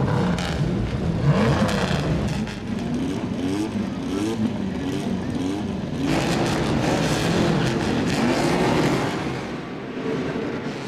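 Historic front-engine Grand Prix cars from 1947 to 1960, among them a Maserati 250F, a Cisitalia, a Gordini and a Lotus 16, race through the streets at Monaco, their loud engines rasping and revving as several pass in overlapping waves.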